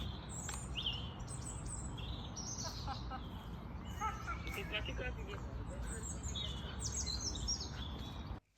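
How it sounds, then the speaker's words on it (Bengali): Birds singing with scattered high chirps and tweets over a constant low rumble of background noise. "শুনতেই তো পারলে খুব সুন্দর পাখির ডাক ছিল"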